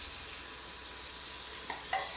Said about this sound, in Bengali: এখানে মাছ বসছে ইন্ডাকশনটা